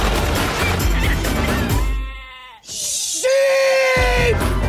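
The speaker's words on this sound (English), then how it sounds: "Sheep!" Sheep bleat loudly in a movie trailer, with long wavering cries standing out between a crash and heavy music. A short burst of speech comes in between them.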